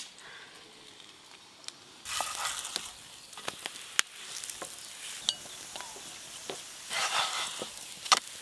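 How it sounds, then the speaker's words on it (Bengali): Lachha paratha fries in a pan with a soft, continuous sizzle that swells into louder hissing bursts as the flatbread is turned, punctuated by occasional light clicks. "এরকম উল্টে পাল্টে ভালো করে ভেজে নেব।"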